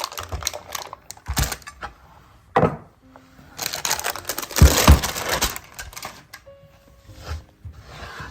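A knife cuts through a set slab of homemade butter fudge, heard as a few close scraping and cracking strokes separated by pauses.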